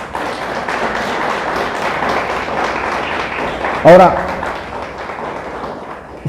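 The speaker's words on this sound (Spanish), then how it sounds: "Le damos un aplauso a Dios por eso." A church congregation applauds for several seconds as a steady, dense patter of many hands clapping, with a loud voice briefly cutting through near the end.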